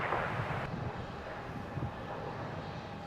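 A jet airliner departing Melbourne Airport on a shallow climb, its engine roar a steady broadband rumble and hiss that holds at moderate distance without any talk.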